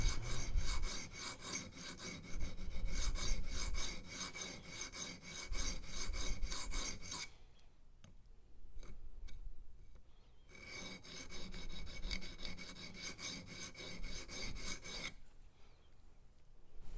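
Rough Ryder Half Hawk knife blade drawn back and forth across a sharpening stone with 3D printed angle guides, giving rhythmic rasping strokes up close in long runs separated by short quiet pauses.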